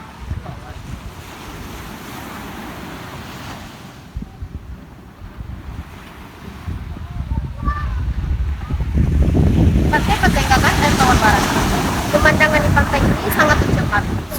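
Surf rolls onto a beach at Patenggangan in West Air Tawar, a steady wash with wind buffeting the microphone, growing louder and fuller toward the end as waves break closer.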